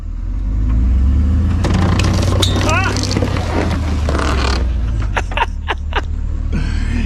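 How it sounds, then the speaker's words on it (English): A completely wrecked car is pulled forward in gear so its engine turns over, producing a low continuous mechanical rumble with rattles and knocks while people talk over it. "see if the motor turns over at all"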